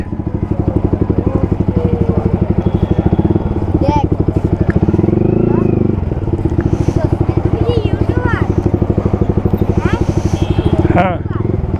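A modified Yamaha R15 V3 sport motorcycle idles close by with a steady, throbbing engine note that rises briefly midway, while people talk over it.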